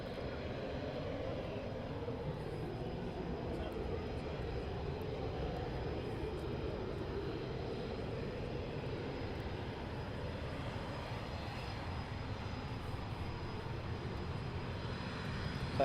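Aircraft taxi at RAF Coningsby, a steady, fairly distant engine drone that holds level and unbroken throughout with no nearby talk.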